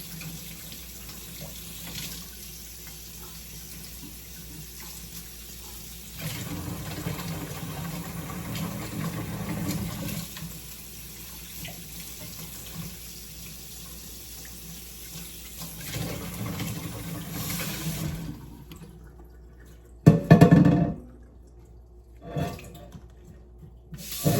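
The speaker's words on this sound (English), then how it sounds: "just want to spray this up with my insecticidal soap, and then do another rinse off, and gently." Running tap water rinses an alocasia plant grown in leca, a steady close stream with a louder gush partway through, then the flow stops and a few short splashes and drips follow.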